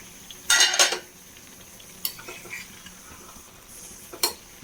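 Mango fish curry with small sardines simmering on low heat in a pan, turned gently with a utensil: a couple of quick metallic scrapes and clinks early, then sparse soft taps over a quiet simmer.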